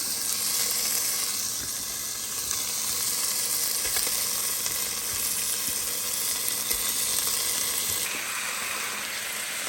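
Pork frying in a hot pan, a steady, loud sizzle and hiss that runs continuously without a break, with faint stirring noises now and then.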